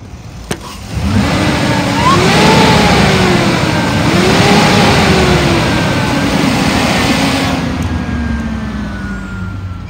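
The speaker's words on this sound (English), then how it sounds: "I'm gonna rev it up so you can hear it." A 2009 Ford F-350 flatbed engine climbs from idle into repeated revs, the pitch rising and falling in waves before settling back down; loud and close, no voices.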